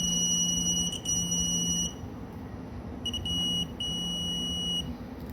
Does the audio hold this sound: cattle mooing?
no